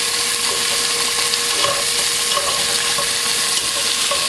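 Smoked sausage sears in melted butter in a pan, a loud steady sizzle that fills the clip, with faint stirring scrapes beneath it and no voices.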